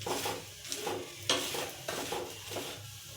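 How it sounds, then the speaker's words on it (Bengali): Sattu paratha fries in oil on a pan, a soft sizzle broken by repeated rhythmic scraping strokes of a spatula, close and fairly quiet, with no voices. "এটা তেল ছাড়াও ভাজা যায়, কিন্তু তেল দিলে একটু ভালো লাগে খেতে"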